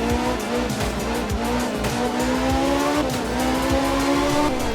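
A rally car in Art of Rally sliding with a sustained tire squeal over a loud droning, revving engine, the skid pitch shifting as the car slides on, close and continuous without talk.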